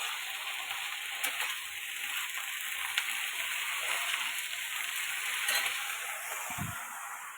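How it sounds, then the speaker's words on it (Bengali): Curry cooking in a pan beside boiling rice, a steady close sizzle and bubbling hiss with occasional small clinks, no talking. "তো আমার ভাতটা তো এদিকে ফুটেই গেছে, আর এদিকে তরকারিটা আমি বসিয়ে ফেলেছি।"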